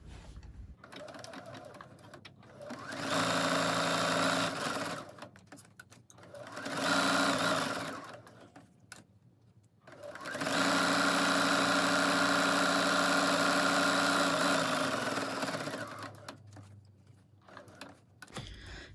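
A sewing machine stitches a fabric coffee sleeve, backstitching at the turning hole, running in three steady whirring bursts with short pauses between them.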